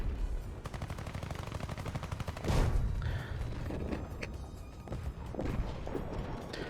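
Rapid automatic gunfire from a flying video game crackles in a dense, fast rhythm, broken by a heavier crash midway, then scattered shots and impacts continue.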